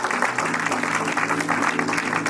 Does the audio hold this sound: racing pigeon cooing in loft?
no